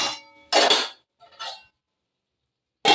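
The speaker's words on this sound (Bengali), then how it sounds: "এবার এটা আবার ঢেকে দেব" A metal lid set over a cooking pan of raw tomato curry, a few short clanks and clinks in quick bursts, then a pause and another clink, close and fairly loud.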